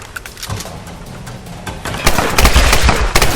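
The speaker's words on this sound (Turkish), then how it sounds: "Şu makinalı tüfekler hakikaten çok zor çünkü bir anda canınızı emiyor." Machine gun fire in the 2013 Tomb Raider video game, rapid bursts of automatic shots that start sparse and build into dense, loud, close volleys during the final second and a half.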